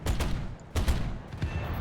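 Rear gunner of a B7A2 Ryusei torpedo bomber fires in War Thunder, heard as rapid bursts of machine-gun fire in three rough clusters, fairly loud with short gaps between.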